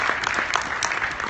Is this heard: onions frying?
no